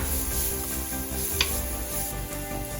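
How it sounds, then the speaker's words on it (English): Onions cooking with chili powder in a pot give a close, steady sizzle and crackle as they are stirred, with one faint clink partway through. "We're going to give it a quick stir and cook it for about 4 to 5 minutes."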